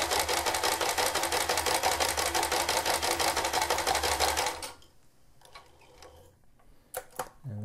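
Sewing machine stitching fabric for a juggling ball, running fast and steady with dense rapid needle ticks for about four and a half seconds, then stopping, leaving faint handling clicks and rustles.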